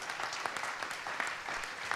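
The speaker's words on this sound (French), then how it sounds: "vous avez le droit de l'applaudir" Audience applause at a French conference on energy and agriculture, a dense steady wash of many hands clapping from start to finish at an even level with no voices on top.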